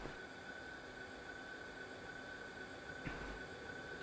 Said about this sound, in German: Ich glaube, da kommt der Zug.